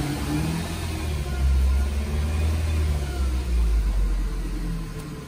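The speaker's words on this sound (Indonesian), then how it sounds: "suara mesin berisik" A Nissan Grand Livina car engine runs with a steady, loud low rumble and a rough, noisy drone throughout.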